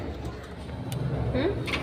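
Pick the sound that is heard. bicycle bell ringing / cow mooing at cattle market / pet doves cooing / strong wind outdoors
pet doves cooing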